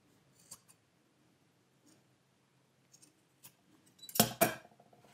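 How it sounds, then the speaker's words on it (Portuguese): Faint, sparse snips of scissors cutting through the seam of a cotton T-shirt, a few quiet clicks followed by two louder, closer crunching cuts near the end. "Vamos cortar essa parte da costura."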